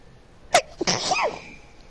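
A single close sneeze breaks a quiet room, with a sharp intake of breath and then a breathy burst that trails off.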